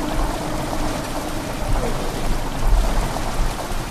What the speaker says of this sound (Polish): Woda wpływająca do komnaty wydaje dziwny dźwięk.